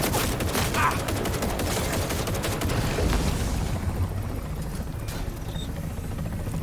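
Dense, continuous rattling gunfire aimed at a helicopter in the video game Cyberpunk 2077, loud and close with a heavy rotor-like rumble underneath, easing off slightly toward the end; no talking.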